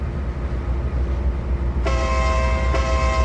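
A train in Trainz 2022 rumbles loudly and continuously, then a bright tonal horn sounds abruptly partway through and holds, close and dominant over the low rolling noise.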